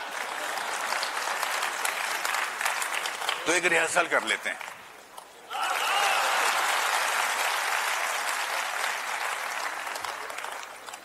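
A crowd at a Delhi government celebration event bursts into loud applause, fades briefly while someone speaks, then claps again loudly and steadily to the end.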